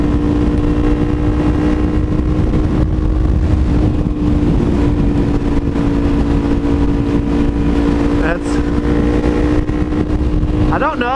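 A motorcycle fitted with a new GP exhaust pipe idles and revs loudly and close by in a continuous rumbling drone, with a couple of brief throttle blips near the end.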